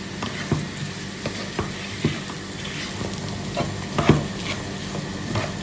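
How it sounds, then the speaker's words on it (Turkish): Bulgur roasting in a pan gives a steady close sizzle, broken by repeated scraping stir strokes and a louder clatter near the middle, with no voices. "Bulgularımı da güzelce kavruldu."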